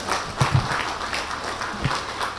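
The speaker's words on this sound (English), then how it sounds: "Give them a big round of applause" Brief applause from an audience after robotics team demonstrations, a scattered patter of clapping with a few louder claps near the start, fading toward the end.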